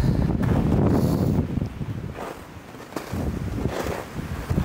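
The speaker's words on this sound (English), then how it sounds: "this wind is just bitter. Blowing very, very hard." Strong, bitter outdoor wind blowing very hard, buffeting the microphone with loud low rumbling gusts that ease briefly midway and then pick up again, no voices.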